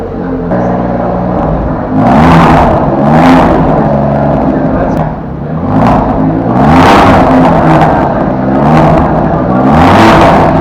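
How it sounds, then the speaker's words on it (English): An Alfa Romeo Giulia Quadrifoglio in race mode revs hard about five times, each loud, close rise to a snarling peak falling back to a deep rumbling idle. "this guy just turned on the Quadrifoglio"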